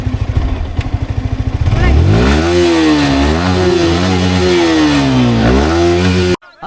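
A normal, non-superbike motorcycle engine idles with a quick chugging beat, then revs up and down in rising and falling sweeps, loud and close, before cutting off abruptly near the end.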